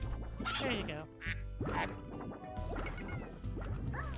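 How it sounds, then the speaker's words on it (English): A cartoonish duck quacks in the farming game Maou Rancher, heard as a few short calls mixed with game music and other effects while people talk over it. "Quack."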